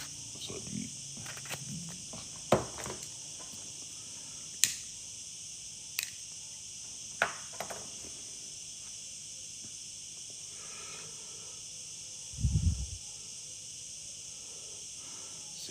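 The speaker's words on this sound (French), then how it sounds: "C'est des cigales du jardin." Cicadas singing in a garden on a hot day, a constant high buzzing drone that runs throughout, with scattered nearby clicks and taps and one brief low thump.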